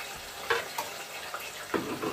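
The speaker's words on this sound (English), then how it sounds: "I'm going to be frying my Lyonnaise potatoes on this side." Blanched Lyonnaise potatoes fry in hot oil in a pan, giving a steady close sizzle with a few louder crackles and stirring scrapes, and no talking.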